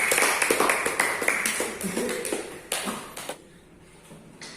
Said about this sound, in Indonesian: tepuk tangan yang meriah untuk Kak Adib